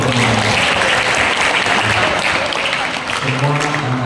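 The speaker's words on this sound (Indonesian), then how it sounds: "tepuk tangan untuk semua" Loud, dense applause from an audience of children at a special prison facility gathering, a continuous burst of clapping with voices heard briefly at the start and end.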